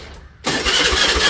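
After a short quiet pause, an engine suddenly fires up and settles into a loud, rough running rumble.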